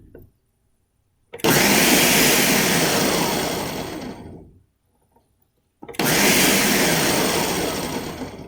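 Blender pulsing salsa verde to a chunky texture: two loud bursts of whirring motor, each running about three seconds then stopping, with a short quiet gap between them.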